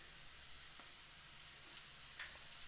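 Oats fry in a pan with salt, a steady soft sizzle and hiss held close throughout with a few faint ticks, no voices.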